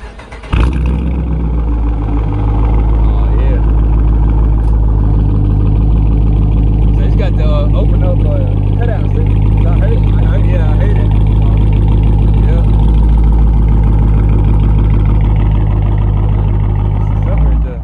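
A Dodge Charger exhaust with the mid mufflers cut off rumbles with a deep, loud idle drone that swells slightly at times, while people talk over it nearby.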